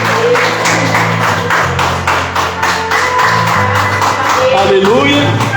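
A church congregation claps in a steady, rhythmic beat for Jesus during a Portuguese-language service. Loud, sustained voices and music carry on underneath the claps.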